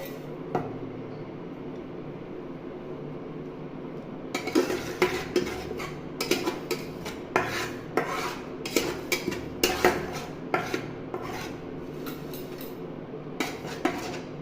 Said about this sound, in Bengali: এখানে দিলাম জিরে আর একটা শুকনো লঙ্কা, এটা ভেজে নেবো